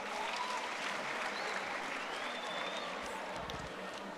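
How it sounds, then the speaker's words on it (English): Steady audience applause at a youth empowerment event's main stage in Orange Farm, dense and sustained clapping throughout with a faint crowd murmur beneath. "Let's give you a round of applause."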